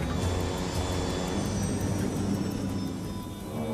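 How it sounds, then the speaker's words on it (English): An aircraft's engines roar loudly and steadily as the thrust levers are pulled back to reduce power during a missed approach. The broad engine rumble eases slightly toward the end. "The captain pulls the thrust levers back to reduce power."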